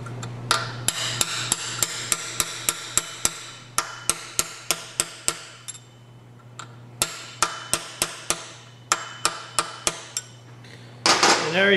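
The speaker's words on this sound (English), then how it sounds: "Drive the roll pin in." A hammer drives a roll pin into a transmission axle during a 2-3 gear swap, giving a rapid series of sharp metallic taps in bursts with brief pauses, close and clear.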